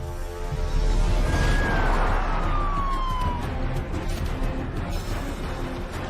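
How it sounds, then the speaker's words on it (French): An ambulance siren wails as the vehicle arrives outside a restaurant, a single rising and falling tone sweeping across a loud, rumbling street background. "C'est une ambulance qui vient d'arriver?"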